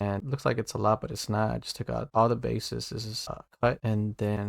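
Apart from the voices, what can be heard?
None of the usual background noises is heard.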